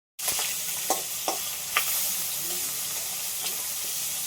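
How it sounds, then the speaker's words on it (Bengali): Koi and shing fish fry in oil in a pan, giving a steady close sizzle with a few sharp pops and stirring scrapes scattered through it. "আগে কই মাছগুলো ভেজে নেবো কই মাছের সাথে একটা শিং মাছ এটাও দিয়েছি"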